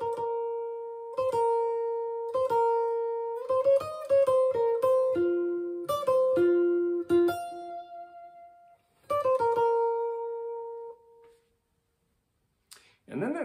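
Fluty, hollow Oberheim synthesizer playing a secondary theme, a clean melodic line of sustained and quick notes alone, ending in silence with a brief noise at the end.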